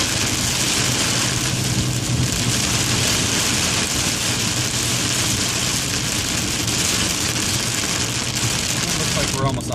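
Heavy rain drums on a 1998 Golf driving on the Autobahn, a dense, constant roar of water and road noise that fills the whole stretch at an even level.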